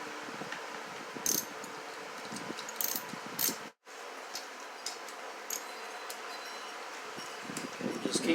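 A hand ratchet tightens bolts on a Yamaha XJ700X motorcycle during valve shim adjustment work, giving bursts of close, rapid clicking and buzzing with a brief drop to silence partway through.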